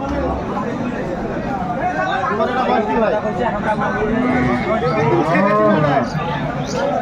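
Improved-breed dairy cows and calves lowing repeatedly at the crowded Aftabganj cattle market in Dinajpur, with loud long moos rising over the constant chatter of buyers and sellers talking nearby.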